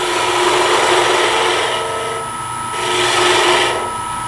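Shallow fluted gouge cutting a rounded cove into spinning wood on a lathe for furniture turning, a steady close scraping hiss that swells and eases in two passes with no talk.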